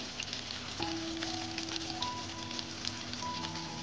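Hilsa fish frying in hot oil, a steady close sizzle and crackle running throughout with a few faint tonal clinks over it.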